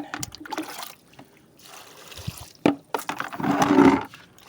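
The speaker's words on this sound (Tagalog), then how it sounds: "bumababa agad yung tubig niya hindi siya napupuno dyan ay lalabas agad doon sa butas ng paso" Water drains out through the bottom hole of a potted grape plant's pot, making uneven splashing, trickling gushes heard up close, with a louder pour near the end.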